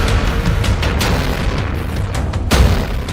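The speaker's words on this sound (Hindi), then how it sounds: "इजरायली मिसाइल का धमाका कितना जबरदस्त है।" An Israeli missile strike explodes in Nuseirat, Gaza, with heavy, close booming bursts over a continuous rumble, the loudest blast hitting late and shaking everything.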